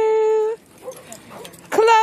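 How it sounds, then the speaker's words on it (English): Dogs playing in the first snow give loud, high, tonal whines and yips, one drawn-out at the start and another rising near the end, with quieter rustling and murmurs between. "Oh, Chloe, who's that big doggy?"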